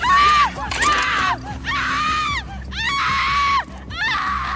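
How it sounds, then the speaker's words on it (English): A hostage screams in a video game: four or five long, loud, high-pitched wails, each one separated by a short gap. "Scream more."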